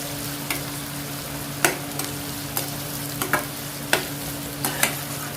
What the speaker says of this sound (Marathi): कांदा आपण चांगला फ्राय करून घेणार आहोत